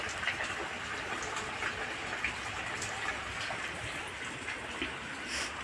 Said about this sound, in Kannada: ಈಗ ಮಳೆ ಸ್ಟಾರ್ಟ್ ಆಗಿದೆ